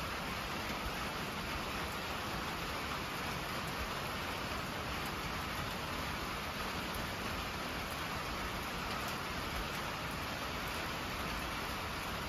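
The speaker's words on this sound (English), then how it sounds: "I love being up here in the rain." Rain falls on a workshop roof as an even, unbroken hiss of patter that stays constant throughout, moderately quiet with nothing else rising above it.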